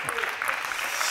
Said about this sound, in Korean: 아, 박수가 네. 나올 수밖에 없습니다.